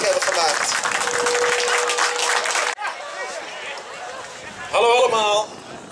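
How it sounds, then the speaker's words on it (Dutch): A crowd at an outdoor New Year's dive event in Assen claps loudly and densely for the sponsors, then the clapping cuts off and a voice speaks over quieter background noise. "Dus ook een applaus voor alle sponsors die dit mogelijk hebben gemaakt."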